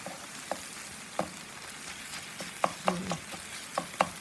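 Ground beef and butternut squash sizzle quietly in a frying pan with coconut oil while a utensil scrapes and taps against the pan in a string of short, irregular stirring knocks, with no talking.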